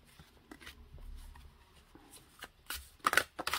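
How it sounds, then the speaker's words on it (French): Large tarot cards being shuffled by hand, a run of papery riffles and slaps building to louder bursts near the end, close up with no talking. "Ce sont des grandes cartes, du coup, c'est pas évident de les mélanger."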